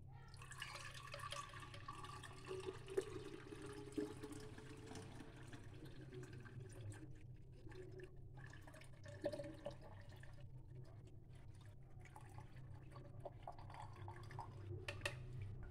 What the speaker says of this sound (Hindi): अब हम इसको एक जग में पुन लेंगे।